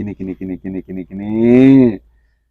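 A young goat bleats up close: five quick, loud, pulsing calls in a row, then one long, drawn-out bleat that fades into silence.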